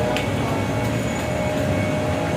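Light rail (LRT) train at a station platform: a steady, loud rumble of the train and station machinery runs throughout, with a faint high whine and no voices.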